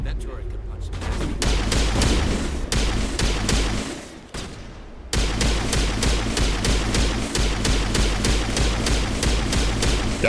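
Turret gunfire in Mass Effect Legendary Edition: loud, rapid bursts of repeated shots with heavy booming impacts, briefly pausing midway before resuming as steady sharp cracks throughout, with some speech mixed in.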